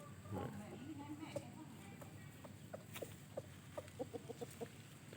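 Hens cluck in a series of short, soft calls growing more frequent toward the end, with a brief voice near the start and faint background noise.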